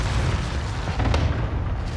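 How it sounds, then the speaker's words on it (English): Rumbling booms of a cluster airstrike in Call of Duty Warzone, a dense, continuous low roar of overlapping explosions filling the whole stretch with no clear gaps. "Enemy cluster strike."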